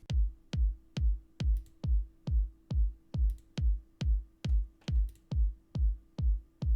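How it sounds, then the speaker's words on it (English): A punchy techno kick drum layered with a crisp click transient hits at a steady four-on-the-floor pace, about fourteen loud, booming thumps with a bright attack and nothing else playing. "And together with my kick, this is what it adds to the full sound."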